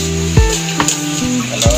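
Kalodi is stirred in a sizzling pan. There is a steady frying hiss, with a few sharp scrapes of the spoon at regular intervals, close and fairly loud.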